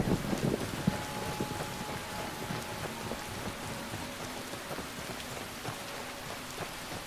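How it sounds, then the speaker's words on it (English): Heavy rainstorm in the video game Skyrim, a steady dense hiss of rain with a faint low tonal hum underneath, continuous and even throughout with no talking. "Good grief, that's a nasty storm."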